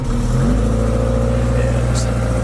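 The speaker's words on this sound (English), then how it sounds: "it's idling kind of weird" A 2008 Subaru STI engine runs steadily up close with a low, uneven, rough idle rumble and no clear speech.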